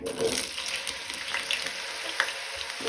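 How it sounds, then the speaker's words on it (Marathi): Potatoes frying in a pan over medium flame after eggplant slices were fried, a steady close sizzle with light stirring scrapes, no talking. "बटाट शिजपर्यंत आमकां तळून घेवपाक जाय।"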